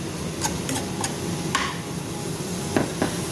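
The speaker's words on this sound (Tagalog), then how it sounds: "let's stir until the meat is cooked." Meat with mushroom, salt and spices stirred in a pan for Arabic-style beef macaroni, a few sharp utensil scrapes and clicks over a steady sizzle.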